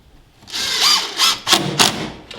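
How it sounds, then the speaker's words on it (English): A power drill drives screws into window installation brackets in several short whirring bursts, four close, loud spurts separated by brief pauses. "go ahead and install these screws"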